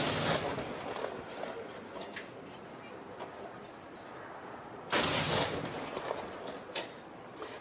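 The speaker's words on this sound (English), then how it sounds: "in New Zealand, there have been two 21-gun salutes to acknowledge the proclamation of King Charles III" Artillery fires a 21-gun salute in New Zealand for the proclamation of King Charles III, with two booming reports heard at a distance over outdoor ambience and birds.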